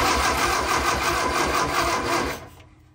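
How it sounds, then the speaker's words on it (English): An Austin-Healey Sprite engine, long stored in a barn and with no fan belt fitted, cranks over on the starter with a steady rhythmic churning that stops abruptly near the end, close and loud with no talking. "if I pull that, it should turn the engine over"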